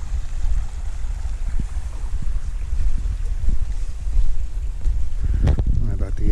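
A running creek in Allegheny National Forest, where several creeks come together. The water makes a steady, fairly loud wash and rush throughout, with wind buffeting the microphone and a brief clatter near the end.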